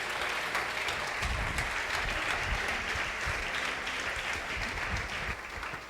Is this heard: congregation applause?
yes